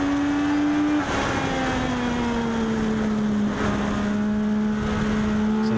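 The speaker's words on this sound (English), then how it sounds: "So checker flags. Heat race number 2 for the Domino's Legends goes to Austin Murphy." Legends race cars roar around a speedway in a heat race. The engine drone is loud and continuous, and its pitch glides slowly downward as cars pass. No one speaks.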